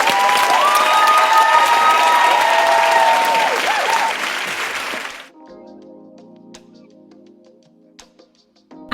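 A studio audience claps and cheers loudly for about five seconds, then the applause cuts off to near quiet with a faint voice.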